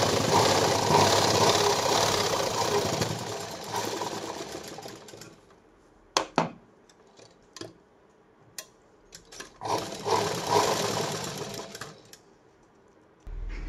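Sewing machine stitching a straight seam on a four-tuck blouse, running in a steady loud whir for several seconds, then a string of short stops and clicks, then another sustained run, with no talking.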